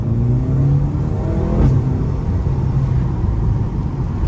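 A Mercedes-AMG car accelerates hard while driving, its engine a loud, steady, rising drone heard from inside the car, with no talk.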